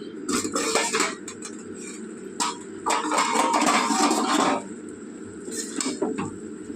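A metal lid is set onto a cooking pot of fish-head and note greens ghonto, giving a burst of close metallic clanks and clinks, followed by softer rattling.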